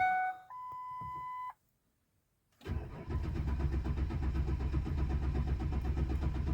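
2003 Ford Ranger engine cranking with tones beforehand, a pause, then catching and running steadily at a loud, even idle, nearby and with no talk.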